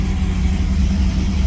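A car engine idles steadily up close, a continuous low rumble with a slight uneven throb and no change in speed.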